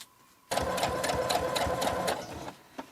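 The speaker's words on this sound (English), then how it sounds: "So I'm going to do that while I'm sewing." A sewing machine stitches fabric pinned for easing on a homemade custom dress form, running steadily for about two seconds with a rapid rhythmic needle clatter, close and clear, then stopping.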